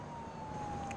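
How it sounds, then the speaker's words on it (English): A steady siren tone wails in BeamNG Drive, fairly faint and distant over a broad road and engine rumble, with no talking. "There is a siren somewhere."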